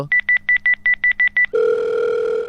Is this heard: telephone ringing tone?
yes